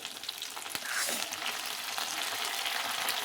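Fish roe fritters in gram flour batter fry in hot oil, a steady close sizzle and crackle that swells after a brief knock and then holds.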